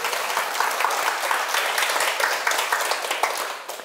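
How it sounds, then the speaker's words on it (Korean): An audience at a Sunday lecture gives a warm round of applause, many hands clapping densely and evenly, loud and close, tapering slightly near the end with no talking over it. "잘 해결돼서 큰 박수 부탁드립니다."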